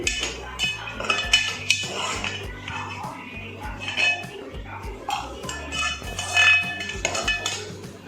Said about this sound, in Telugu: ఇదండి సేమ్యాలు వేస్తున్నా. దానికి కూడా కొంచెం బ్రౌన్ కలర్ వచ్చేలాగా వేయించుకోవాలి.